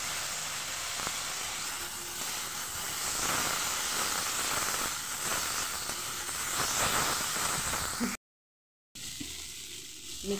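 Spice paste hisses and sizzles loudly in hot oil in a pan, a dense continuous frying crackle that cuts out briefly near the end before resuming.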